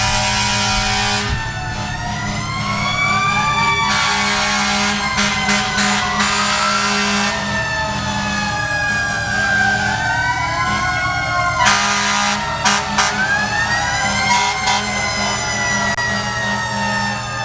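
Fire engine sirens wail and sweep up and down, loud and close, with repeated blasts of a truck air horn over a steady engine rumble during a firemen's parade in Mamaroneck, continuing throughout with no talk.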